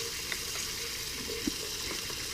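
Bacon frying in a pan at a wild camp on the Scottish coast, a steady soft sizzle with faint crackles running throughout, close and alone without any voices.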